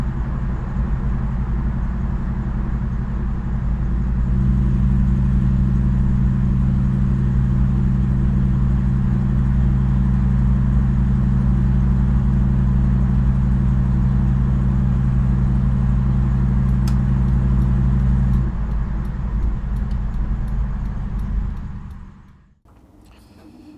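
A Suburban's engine drones steadily during a test drive, a loud, even road-and-engine hum that swells slightly partway through before dropping away abruptly near the end.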